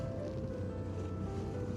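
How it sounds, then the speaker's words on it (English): Wind and choppy water around a lobster boat out at sea, a steady low rumble of gusts and wave wash with buffeting on the microphone, constant and fairly loud throughout, no talking. "it's a bit windy today"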